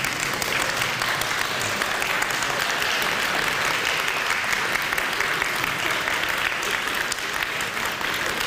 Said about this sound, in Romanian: Să înțeleg că aplaudați de bucurie că e gata, da?